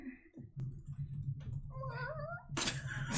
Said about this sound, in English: It just sounds like a cat.